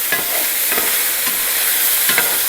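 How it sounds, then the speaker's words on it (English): Beef for beef bourguignon sears in a hot pan with a steady, close, loud sizzle and a few soft stirring scrapes. "Okay, it's starting to get a nice sear on it."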